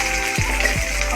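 Two large chopped onions sizzle in oil with cloves, cardamom, cinnamon, dried red chilli and bay leaf, a close continuous frying hiss with a couple of soft thumps of stirring.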